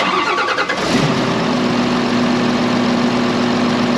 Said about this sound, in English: We're going to go ahead and start this thing up without the turbo actuator plugged in.